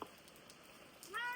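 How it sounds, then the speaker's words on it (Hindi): A kitten in a rainy Uttarakhand mountain village gives a single faint, rising meow near the end, after a quiet stretch of soft background noise. "बिल्ली की बच्ची"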